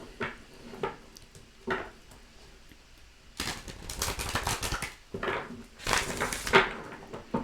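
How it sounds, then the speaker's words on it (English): A deck of tarot cards being shuffled, soft papery riffles and taps in short bursts, the later ones longer and louder, close to the microphone. "One more shuffle."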